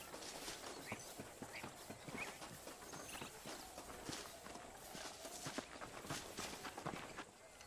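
Horse hooves clip-clop steadily in the western video game Red Dead Redemption, a continuous rhythmic patter of quiet, fairly distant hoofbeats.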